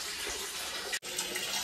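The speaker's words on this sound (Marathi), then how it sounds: "पाणी आलं आहे तर पाणी भरून घेते." Tap water pours steadily as containers are filled in a village home in Karde, Dapoli, a continuous close rushing stream with one brief break partway through.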